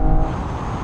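BMW M4 cars in a drag race, a loud, close engine roar under acceleration filling a brief moment with no one speaking.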